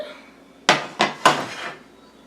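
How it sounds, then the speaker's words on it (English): Three quick metallic clanks ring out in succession as metal baking pans are set down and knocked together, close by with a short ringing decay. "can you guys hand me the pans?"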